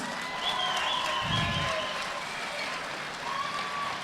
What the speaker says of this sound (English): A round of applause, ladies and gentlemen, for these two guys on debut here tonight.